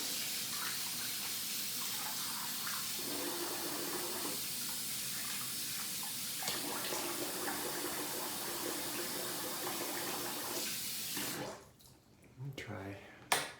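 A bathroom tap runs steadily for rinsing after a shave, a continuous close wash of water that stops abruptly near the end, followed by a few small clunks.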